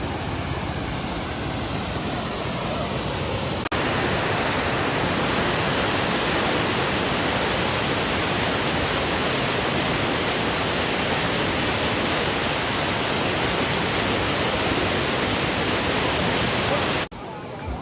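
Heavy rainwater pours down a hillside along a ghat road after strong rain, a loud, steady, broadband rushing that fills nearly the whole stretch and then stops abruptly.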